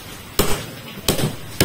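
Crab shells being pounded with a spoon at a family meal: three sharp, close knocks with short pauses between them, and no voices.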